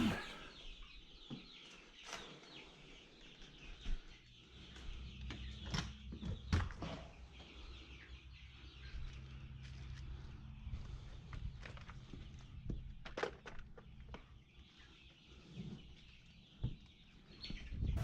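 Young chickens cluck and peep close by as they are shifted from a brooder to a coop, with soft scuffling and bumping mixed among the steady, overlapping calls.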